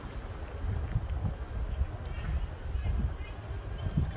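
Steady wind buffets the microphone outdoors beside a 2023 Jayco Jay Flight 242BHS travel trailer, a low rumbling gusty roar filling the clip without pause.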